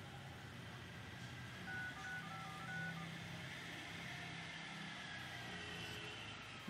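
Keypad tones from a Samsung Galaxy S3 phone dialer running Android 5.0.2 Lollipop: a few short, faint beeps sit over a steady background hum, with no voices.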